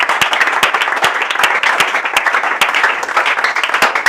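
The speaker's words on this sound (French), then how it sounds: "Acclame, acclame, acclame fortement." A church congregation at a Sunday service claps loudly and steadily in a continuous burst of applause that fills the room. No voices stand out.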